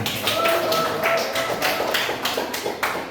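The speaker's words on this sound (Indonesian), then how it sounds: "Beri aplaus untuk kelompok 3." A classroom audience claps for a student presenting group, a short burst of dense, rapid hand claps at close range with no talking over it.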